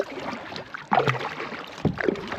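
Paddle strokes splash and swish through water, with a steady background of wind and lapping water around a canoe on Astotin Lake, Canada.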